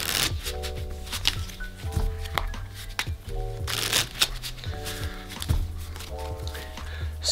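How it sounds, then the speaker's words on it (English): A deck of playing cards being shuffled up close, quick riffling bursts and soft slaps repeating over several seconds, with faint background noise. "I'll just give this a shuffle real quick."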